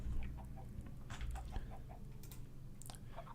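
Chickens clucking in a video game, a few short soft clucks and chirps scattered over a low steady hum, faint and spaced irregularly.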